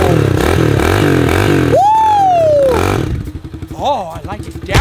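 A motorcycle engine in a video game drones and revs with a pulsing, rising and falling tone while someone talks excitedly over it, then the engine noise drops away near the end.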